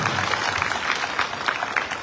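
An audience at a Saket Mahayagya religious gathering applauds the accompanying singers, a dense, steady crackle of many hands clapping at moderate loudness for the full two seconds, with no talking over it.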